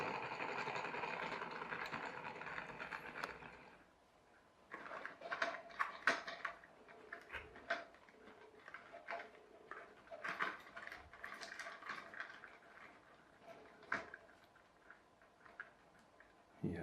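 A wound-up rubber-band-powered car built from a plastic takeaway container whirs for a few seconds, then clicks and rattles unevenly as it runs off with irregular ticking and patter.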